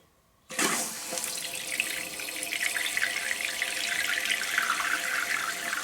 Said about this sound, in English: Let's turn the water back on.